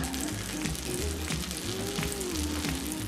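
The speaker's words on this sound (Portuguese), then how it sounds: "Você vai usar uma frigideira antiaderente e colocar um pouco de manteiga." Butter sizzles in a nonstick frying pan while a sweet potato and egg skillet tart is being made, a steady, close, continuous crackling hiss that runs without pause.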